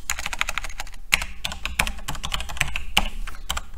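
Fingers type code on a computer keyboard in rapid, uneven bursts of close, crisp key clicks with a few heavier strokes, heard alone with no talk.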